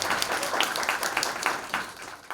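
An audience at a live talk show claps in a brief, fairly close burst of overlapping hand claps that runs evenly and then trails off.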